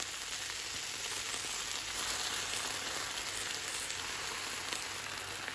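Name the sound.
stir-frying noodles with chicken and vegetables in a pan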